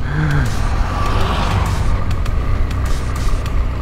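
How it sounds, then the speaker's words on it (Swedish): Heavy engines rumble and clatter as old tractors pass close by, with hissing bursts and mechanical rattles over steady traffic noise. "Vad var det där för parad med gamla traktorer?"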